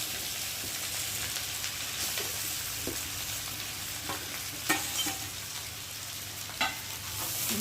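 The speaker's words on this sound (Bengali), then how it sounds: "এখন আমি ভেজে রাখা সব কিছু সবজি দিয়ে দেবো মশলার মধ্যে" Pre-fried vegetables for shukto stirred into a sizzling spice paste in a pan, a steady close frying hiss broken by a few sharp spatula scrapes and knocks against the pan.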